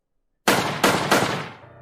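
Gunfire in a narrated story: three sharp, loud shots after a moment of silence, each with a short echoing tail, fired in quick succession.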